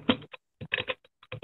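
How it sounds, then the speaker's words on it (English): Fingers type on a computer keyboard in short, uneven bursts of close clicking keystrokes, separated by brief pauses. "I'm typing keyboard"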